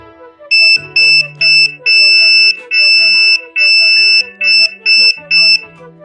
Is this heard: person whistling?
no